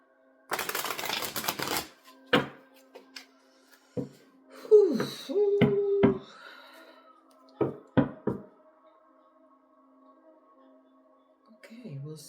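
Tarot cards are shuffled by hand: a quick riffling burst near the start, then scattered taps and soft card knocks, with a brief voice partway through.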